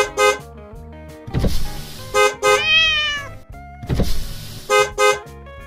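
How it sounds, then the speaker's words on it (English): A taxi car sounds short, loud honking bursts in a repeating pattern, with a rising whine and the rumble of a passing car in between. "Taxi."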